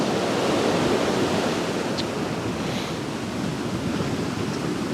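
Sea waves rolling onto a coastline, heard as a continuous broad wash of surf with a slight wind rush, steady and fairly loud throughout with no voices.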